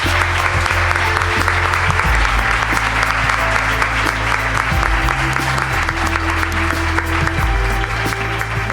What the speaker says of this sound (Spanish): Pues un aplauso enorme